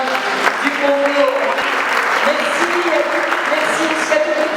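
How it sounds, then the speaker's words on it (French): Audience applause at a documentary screening event at a Walloon cultural centre, honoring a Congolese photographer: a steady wash of many hands clapping throughout, with voices and tonal sounds mixed in underneath. "Je voudrais qu'on applaudisse aussi"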